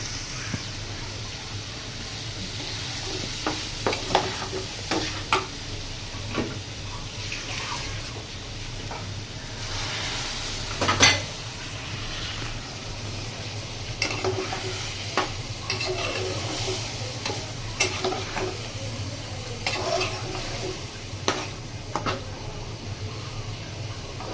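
Beef liver stir-fried in a pan with turmeric, chili powder, ginger-garlic paste and coriander powder makes a low, continuous sizzle, broken by scattered scraping and clinking stirs from a spoon, close by and without talking.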